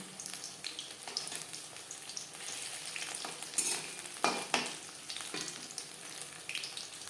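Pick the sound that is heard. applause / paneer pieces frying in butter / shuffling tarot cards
paneer pieces frying in butter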